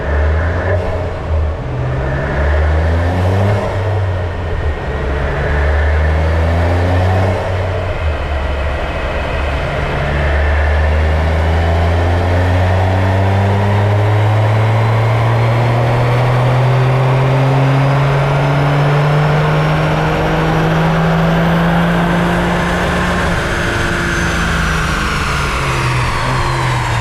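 A Toyota GR Yaris runs hard on a dyno, its engine note climbing steadily in pitch through a long, loud, sustained pull with rich harmonic drone and no talking.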